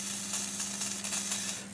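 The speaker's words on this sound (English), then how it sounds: "Something sizzling." Electrical sizzling and crackling from a faulty old Cossor oscilloscope, a steady hiss with irregular bursts of crackle over a constant low mains hum, close and alone with no talk.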